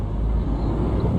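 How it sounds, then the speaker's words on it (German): Steady low road rumble of passing cars on a highway heard from inside a moving truck cab, a continuous dense drone with no distinct individual pass-bys. "Jetzt haben wir ausnahmsweise auch mal ein bisschen Verkehr hier"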